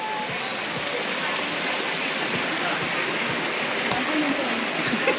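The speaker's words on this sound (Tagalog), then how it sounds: "Ito na po. Ang Batlag Falls." Batlag Falls pours in a dense, constant roaring rush of water that holds steady and fairly loud throughout, with no clear speech on top.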